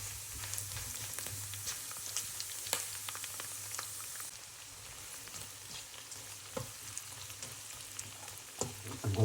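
Pork belly sizzles and fries steadily in a pan, a dense close crackle with occasional sharper pops and spatters throughout, no voices.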